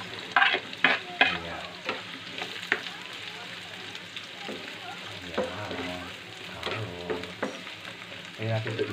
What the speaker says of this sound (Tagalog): Sute-sute lang natin ang ating sibuyas.